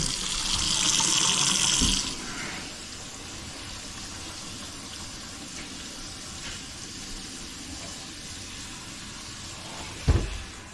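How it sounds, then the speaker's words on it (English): Water from the tap runs into the left basin of a kitchen sink during a drain test after a repair and unclogging. A steady hiss fills the first two seconds, then quieter draining follows, with a brief knock near the end. "Let's go ahead and run up the left sink first."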